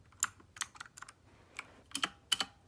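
Clicky Cherry MX Blue switches on an RK61 keyboard, struck in a slow, uneven run of about seven separate sharp keystrokes, close and fairly quiet with no talk.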